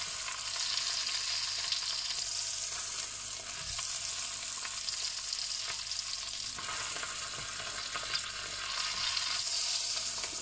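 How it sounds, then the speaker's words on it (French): A tied pork roast browns in a hot pan, giving a steady, close, continuous sizzle and crackle of frying fat that runs the whole time with no talking. "Donc on fait revenir sur toutes ces faces. Pour qu'il colore un petit peu."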